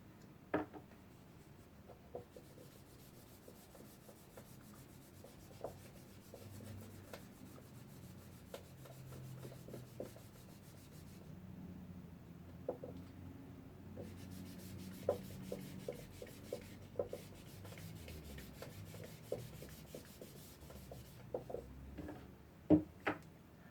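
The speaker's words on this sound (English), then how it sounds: "let me erase this." An eraser rubs back and forth across a board with a soft, scratchy, continuous friction, punctuated by small ticks and knocks, steady and close for the whole stretch with no talking.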